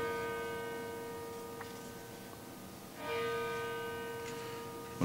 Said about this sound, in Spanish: las campanas molestaban, pero a la vez ponían un cierto tono.